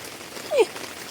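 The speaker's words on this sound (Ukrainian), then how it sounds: "Дощ нормальний такий пішов." Rain falls in a yard as a steady, even hiss of drops, with one brief, faint tonal sound partway through.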